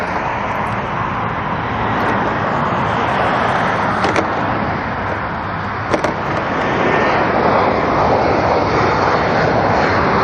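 At the end of a runway at Schiphol airport, a jet airplane's broad engine roar holds steady and loud for the whole stretch, swelling slightly toward the end, with faint traffic and wind beneath.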